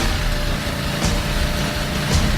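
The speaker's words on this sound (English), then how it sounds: "The tester begins to open the throttle, and the revs build." A Ducati motorcycle engine under test holds a steady, dense drone as the tester opens the throttle and the revs build, with a couple of brief louder surges, no speech.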